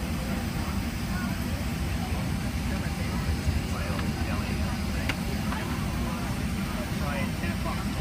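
Airport ambience with airplanes landing and taking off at St. Paul/Minneapolis, heard as a steady distant jet engine roar and rumble that continues without a break.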